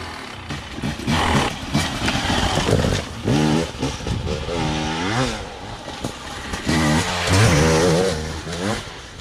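A Husqvarna 250 TEI two-stroke dirt bike from 2020 rides off-road, its engine buzzing and rising and falling in pitch as the rider accelerates and lets off the throttle. The sound is loud, continuous and close, with wind noise mixed in.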